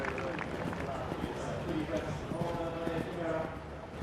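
A horse on a cross-country eventing course, hooves thudding in a steady galloping rhythm over crowd ambience, with a commentator talking throughout.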